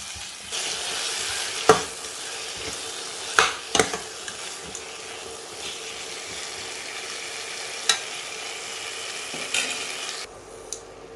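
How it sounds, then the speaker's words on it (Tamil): Mutton chops sizzle and fry in a masala in a pan, with steady crackling and occasional sharp scrapes and clinks as a spoon stirs them. "இந்த மசாலாலேயே ஒரு 2 நிமிஷம் நல்லா புரட்டி விட்டுருங்க."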